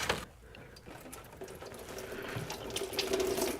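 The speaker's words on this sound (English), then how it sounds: "So we can pop that hose off and drain our inverter cooler." Coolant pours from a disconnected Toyota Prius inverter cooler hose into a catch pan, a quiet steady trickle and splash that grows slightly fuller toward the end.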